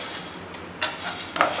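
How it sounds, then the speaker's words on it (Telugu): Coriander seeds dry-roasting in a pan for biryani masala powder, heard as two brief metallic scrapes and clinks of a utensil against the pan over a quiet background, with no speech. "ధనియాలు కొంచెం ఒక 2 మినిట్స్ వేయించండి"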